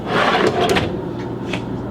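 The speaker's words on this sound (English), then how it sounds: "Now these are what they call soft close drawers." A soft-close kitchen drawer below the dishwasher in a Winnebago Horizon 42Q motorhome slides shut close by with a brief wooden rub and glide, easing to a quiet stop instead of slamming.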